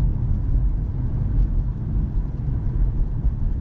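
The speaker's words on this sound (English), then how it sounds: "It's starting to rain." Rain starting to fall on a Mitsubishi Outlander PHEV during a braking and regen test drive: a steady, dense low rumble and hiss of rain and road noise, with no talking.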